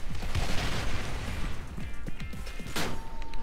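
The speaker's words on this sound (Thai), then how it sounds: "เพราะว่าเราโดนระเบิดกันอ่ะ" Explosions and blasts in the online shooter Special Force 2, a run of loud, dense bursts and crashes filling the whole stretch with a sharp burst near the end.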